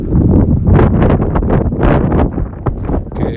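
Strong wind gusts batter the microphone on a hilltop in Edinburgh, loud buffeting roars rising and falling in quick bursts.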